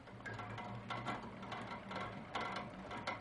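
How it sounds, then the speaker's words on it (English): A sewing machine stitches row after row across a quilt, guided by a ruler along the previous seam. It gives a steady, close mechanical whir with rhythmic surges roughly every second, and no voices. "Stitching row after row, keeping the line on the ruler against your previous line of stitching."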